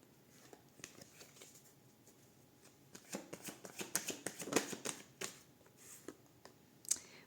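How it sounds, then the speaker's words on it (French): Tarot cards are shuffled and drawn by hand, a quiet, close run of crisp riffling flicks and snaps that thickens in the middle and ends with a sharp slap. "allez, on tire 2-3 cartes."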